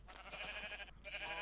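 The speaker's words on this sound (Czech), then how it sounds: "Teď zabijem ovce." Sheep in the video game Minecraft bleat in two short, nasal, wavering calls, close and clear, one after another with a brief gap between them.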